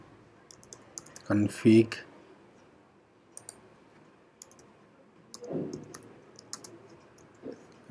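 Keys are typed on a computer keyboard while entering switch command-line configuration. Sparse light clicks come in short clusters, mixed with a person talking.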